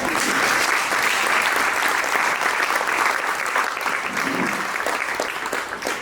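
An audience applauds steadily at a school donation ceremony for the new school year, a sustained, dense wash of many hands clapping from start to finish that tapers slightly near the end.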